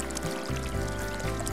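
Water sloshes and splashes steadily as a person wades slowly into a shallow stingray pool, a close, continuous watery churn with no talking.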